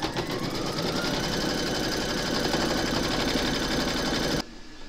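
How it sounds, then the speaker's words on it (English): An embroidery machine stitches an in-the-hoop appliqué, a fast, steady mechanical whirring and rhythmic needle chatter running loud and close, then stopping abruptly near the end to leave a quiet hum. "Pop your hoop into your machine and stitch round number 7 to secure it."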